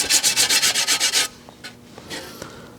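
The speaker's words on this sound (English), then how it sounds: "Over here on my belt sander." A belt sander in a workshop, heard as a rapid run of about nine loud rhythmic rubbing strokes, then fading to low room noise with a few faint knocks.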